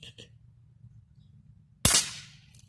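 An air rifle fires a single sharp crack, close and loud, with a short decaying ring after it, following a brief voice and quiet background.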